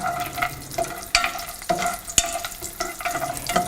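Cashew nuts roast in hot ghee in a pan, a soft sizzle broken by repeated sharp scrapes and clinks of a spoon stirring against the metal.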